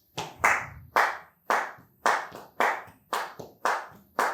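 Flamenco palmas de Cádiz hand clapping, sharp claps in an even rhythm of about two per second, close and clear with no other sound.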